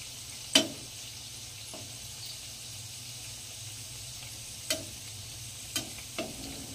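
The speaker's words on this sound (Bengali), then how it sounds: "এবার হালকা একদম লো ফ্লেম করে দিয়েছি। এবার আস্তে আস্তে আমি ভেজে নেব" Gujiya (karanji) pastries deep-frying slowly in oil over a low flame, a faint steady sizzle with a few soft clicks and taps scattered through.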